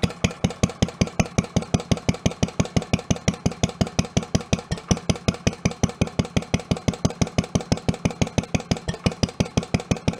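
Single-cylinder engine of a homemade tractor, long buried under a house, idling rough on a rich mixture: a steady, rapid thumping beat, close and loud, with no talking.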